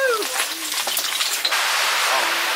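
Water rushes through an underground tunnel as a loud, continuous hiss filling the enclosed space, with faint voices and brief squeaky sounds over it at the start.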